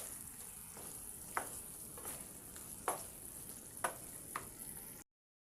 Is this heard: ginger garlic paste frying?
yes